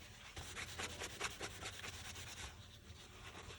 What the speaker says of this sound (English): Just going to use a little bit of acetone just to wipe any fingerprints